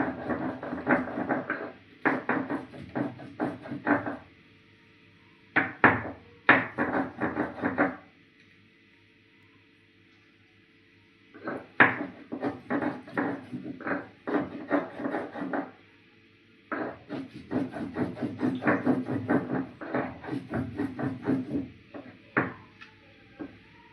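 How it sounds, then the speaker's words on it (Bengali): Ginger and cumin being ground into a paste by hand for a vegetarian red chickpea curry, heard as close, rhythmic rasping and rubbing strokes in several bursts separated by short pauses. "আদা একটু জিরে দিয়ে বাটা করে নিচ্ছি।"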